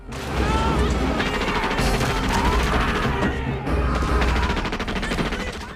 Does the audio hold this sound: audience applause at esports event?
no